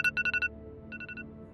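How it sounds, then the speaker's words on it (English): A phone alarm ringtone plays two quick bursts of bright electronic beeps, about four pulses each with a short gap between, fairly quiet against a soft room background. "The next morning, I woke up to my phone alarm."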